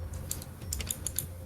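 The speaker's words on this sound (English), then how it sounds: "Press F5 on your keyboard to reload." Keys on a computer keyboard are tapped in a quick, irregular run of crisp clicks, close and clear with no talking.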